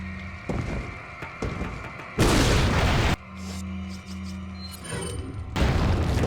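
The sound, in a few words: grenade explosion of barrel in video game Resident Evil 4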